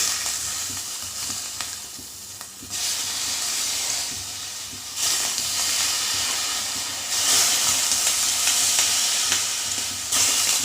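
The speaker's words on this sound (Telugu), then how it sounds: "కొద్దిగా నూనె వేసి ఫ్రై చేసుకుందాం." Cut brinjals fry in oil in a pan on the stove, giving a loud, close sizzling hiss that swells and eases in waves as the pieces are stirred.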